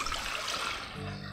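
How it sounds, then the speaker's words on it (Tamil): Water poured into a cooking pot holding a spoonful of salt while a palmyra sprout porridge mix is being made, a steady close pouring splash running the whole time with no talk over it. "அதுக்கடுத்து நம்ம கொஞ்சம் தண்ணி விட்டுடலாம்."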